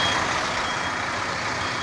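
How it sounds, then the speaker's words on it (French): Supply trucks at an asphalt paving site reversing toward a paver's hopper, steady diesel engine rumble with a faint, continuous reversing alarm carrying under it. "On passe pas entre les camions d'alimentation qui reculent sur la trémie du finisseur."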